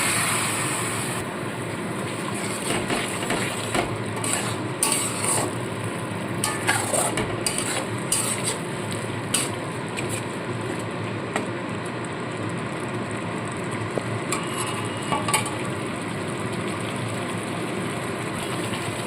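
A spice masala cooks down in a covered pan for a Bengali tangra fish curry, producing a dense, continuous sizzle and bubbling hiss with clustered spitting crackles, steady and fairly loud throughout, with no voices.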